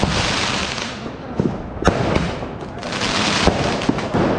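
Firecrackers burst during Diwali in Delhi, a dense loud crackling barrage with sharp individual bangs popping through a constant roar.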